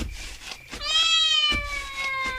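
A cat meows loudly in one long, drawn-out cry with rising and falling pitch, preceded and followed by short bursts of background sound in a comedy skit setting.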